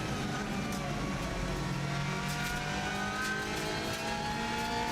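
Subaru WRX STI rally car on a TT lap climbing a hill, its engine droning steadily as it builds power, heard from inside the car as a continuous moderate roar without talk.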